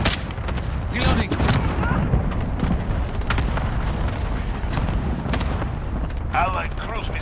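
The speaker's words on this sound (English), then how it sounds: "cluster strike incoming. Take cover." Loud, continuous barrage of overlapping blasts and crackling booms from a cluster strike in the Call of Duty video game, dense and sustained throughout with sharp bursts layered over a rumbling low end.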